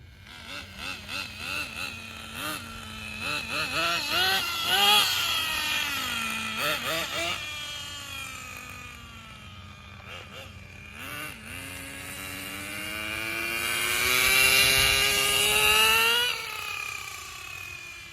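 A Thunder Tiger Tomahawk RC car engine revs and whines as the car drives around, pitch rising and falling with throttle changes, fairly close and loud throughout, with a stronger high-revving pass near the end.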